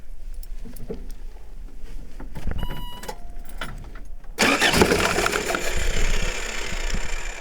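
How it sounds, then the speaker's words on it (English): A 1977 Toyota Celica engine cranking briefly and then catching, settling into a loud, rough idle close by with a steady broadband roar. "So I'm gonna just fire it up. Hopefully it starts again"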